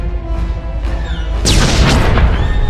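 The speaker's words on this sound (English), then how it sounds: "the Imperial ship has come under fire from the prison turrets and is going down" Heavy turret fire from prison defences in Star Wars: The Old Republic pounds an Imperial ship, opening with faint whooshes and then breaking into a loud, sustained roar of booming blasts and rushing debris.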